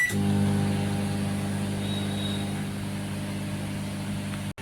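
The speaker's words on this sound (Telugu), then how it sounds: "ఈ ఎల్జీ సోలో మైక్రోవేవ్లో మనం రీహీటింగ్ చేసుకోవచ్చు" An LG solo microwave oven running, producing a steady low electrical hum with a faint whirring drone that stays constant, then a brief click near the end; no one speaks.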